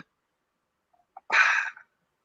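A single sharp sneeze bursts out after a moment of near silence, preceded by a faint quick intake of breath.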